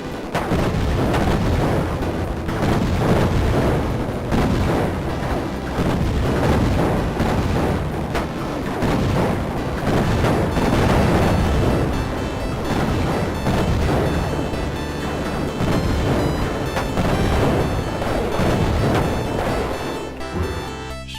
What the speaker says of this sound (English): Now it's explosions and particles.